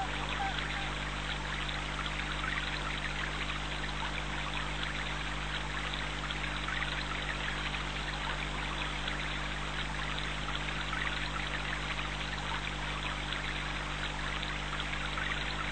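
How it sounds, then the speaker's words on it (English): Steady flowing water for meditation, a continuous even rush like a stream or pouring tap, unbroken and moderately loud with no voices. "Continue focusing on the water for about 10 minutes."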